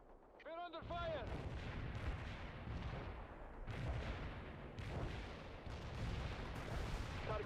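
Continuous heavy artillery and gunfire in a war video game set at an American resistance force base under full-scale invasion, loud booms and crackling shots rolling together, with a voice talking briefly near the start.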